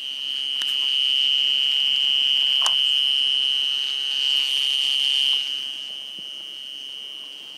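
A loud, steady high-pitched insect drone rings on for several seconds, nearly constant, with faint clicks and background noise.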